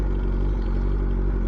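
A Suzuki Hayabusa with a stretched 300 fat rear tire runs with a deep, steady exhaust rumble, loud and close for a brief moment without pause.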